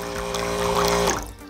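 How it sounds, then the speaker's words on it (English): Water pouring from a solar water pump, a steady close splashing flow that fades out toward the end, with no voices. "this solar water pump is working"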